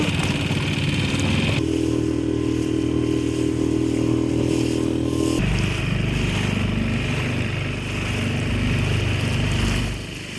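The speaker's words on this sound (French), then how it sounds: "Ben, le moteur, il est sur le neutre." A sailboat's engine idles in neutral with a low steady rumble and drone, loud and close, its tone shifting slightly partway through.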